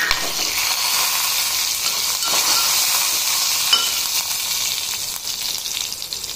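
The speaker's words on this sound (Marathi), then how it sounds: "आपलं तेल तापलेलं आहे. त्यावर हिरवी मिरची आणि जिरं घातलं." Green chili and cumin seeds sizzling steadily in heated oil for sabudana usal, a close, dense and continuous frying hiss with faint stirring scrapes and no voices.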